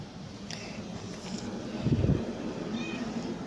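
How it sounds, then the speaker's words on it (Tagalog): A single short cat meow, near and moderately loud, over a background of wind noise. "Tora, pag meow, Ming"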